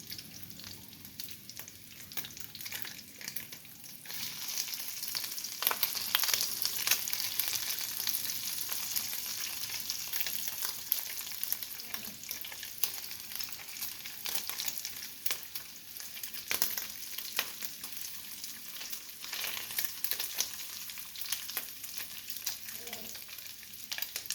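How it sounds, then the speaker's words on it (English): Bacon frying in a pan for a Fourth of July breakfast, a close steady sizzle with crackling pops and periodic scraping bursts from flipping, no talk. "Let that bacon get a little bit more crispy. I might flip it like 2 more times just to get it."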